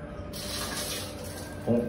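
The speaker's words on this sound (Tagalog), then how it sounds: "Maligo na tayo. Lamig na tubig." Cold water runs steadily from a tap during bathing, a close, continuous rushing stream with a brief clunk near the end.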